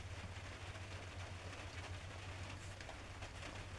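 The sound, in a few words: rain falling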